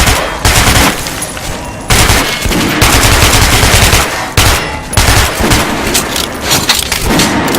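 Rapid automatic gunfire from weapons on a shooting range in the video game Metro: Last Light Redux, loud and close, sustained bursts broken by brief pauses.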